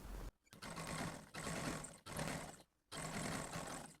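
An electric sewing machine runs bursts of stitching along an ironed crease on trouser fabric to form a pintuck, a steady close motor whir in three or four runs of about a second each separated by brief pauses.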